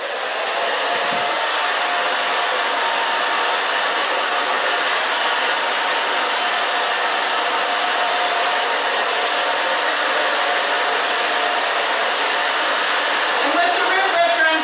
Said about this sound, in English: Okay, then we are just going to dry it.